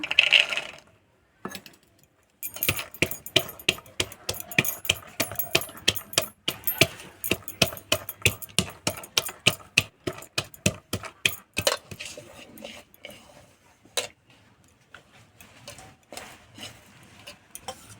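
Raw green peas for spicy fritters being ground by hand, a close, quick series of sharp clicking and tapping knocks in irregular bursts, with brief pauses and no talk.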